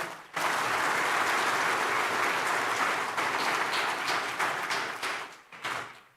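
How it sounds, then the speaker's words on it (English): A sudden burst of full audience applause for nursing award finalists at a global awards ceremony, holding steady for several seconds before thinning into scattered claps and fading. "So I request all of you to give a huge round of applause to them."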